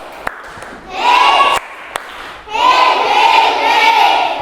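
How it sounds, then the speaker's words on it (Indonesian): A fourth-grade class doing a clapping chant: a few sharp separate claps, then two loud bursts of children chanting together in unison, each lasting about a second or two, near and lively. "tepuk kelas 4."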